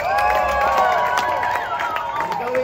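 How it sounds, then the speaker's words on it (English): An outdoor street crowd cheers and shouts for a tightrope performer, a loud, dense swell of many voices with a few distinct yells rising above it, lasting a few seconds. "Let's have a big cheer now!"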